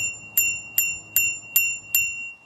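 Five bright, evenly spaced dings of a small bell on an electric bike's handlebar, each ringing out briefly before the next, close and clear over faint background hum.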